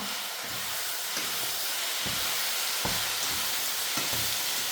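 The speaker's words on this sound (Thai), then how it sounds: "แล้วก็ผัดให้มันผัดไปจนมันแห้งอะจ้ะ" Oyster mushroom chili paste stir-fries in a pan until dry, giving a loud continuous steamy hiss and sizzle with intermittent scraping and stirring knocks, heard up close without talk.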